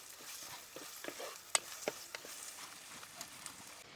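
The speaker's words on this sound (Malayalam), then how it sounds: "നമുക്കിതൊന്ന് ഇളക്കി ഒന്ന് വഴറ്റിയെടുക്കാം" Onions with slit green chilies being stirred and sautéed in a pan for Kerala mackerel fish curry, faint sizzling with sharp spoon scrapes and clicks, close but quiet.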